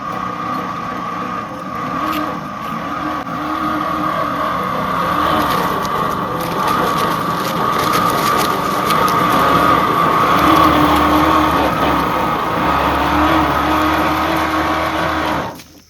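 A multi-utility farming bed maker machine runs with a steady, loud engine drone and mechanical rumble that holds almost unbroken for about sixteen seconds before stopping abruptly, with no talk over it.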